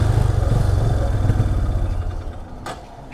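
A Hero Ignitor Techno 125 motorcycle engine idles with a low, uneven throb that weakens and fades as the fuel runs out, settling into near silence with a brief noise near the end.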